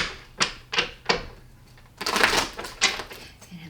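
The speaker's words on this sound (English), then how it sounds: "I'd like to take a moment while I shuffle." Tarot cards being shuffled by hand, a few separate sharp riffling snaps followed by a longer burst of flicking cards, close and fairly loud with no talking.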